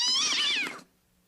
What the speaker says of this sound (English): Cat! Gato!